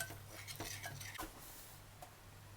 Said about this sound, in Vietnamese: Rồi trộn cho cái bột này nó tan ra.